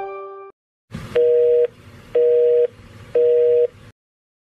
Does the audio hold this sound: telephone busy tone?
yes